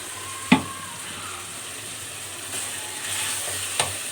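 Tomatoes fry in a pan for a methi aloo curry, giving a steady, soft sizzle throughout, broken by two sharp clinks of a spoon or spatula against the pan near the start and end.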